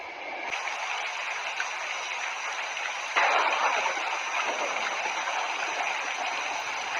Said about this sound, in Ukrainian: Шум дощу з грозою.